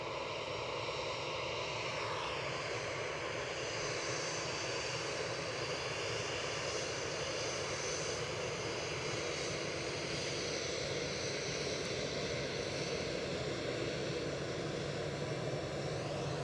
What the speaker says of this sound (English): Go on, EasyJet.